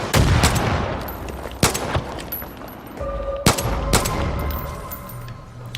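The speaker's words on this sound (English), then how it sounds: "Should I go toward the gunfire? I'm gonna go toward the gunfire." Gunfire in the video game Far Cry New Dawn: several sharp, loud shots and bursts ring out at irregular intervals over a constant game ambience, with no talking.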